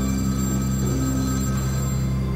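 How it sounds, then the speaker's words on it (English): A telephone rings in the vampire role-playing game Vampire: The Masquerade – Bloodlines, a steady electronic ring that carries on throughout, loud and alone with no speech. "We have a phone call?"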